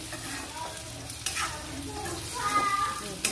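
Food frying in a pan on a lit gas stove, a soft steady sizzle with light stirring scrapes running throughout, fairly close and alone.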